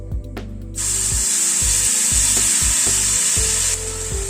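Masala spice paste drops into a hot pan and sizzles loudly and steadily for several seconds, with a low tonal hum and a few soft knocks beneath it.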